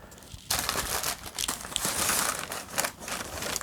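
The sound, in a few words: white paper crinkling in a sneaker box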